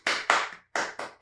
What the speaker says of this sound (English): give us a big round of applause for the Tip Goblin, everybody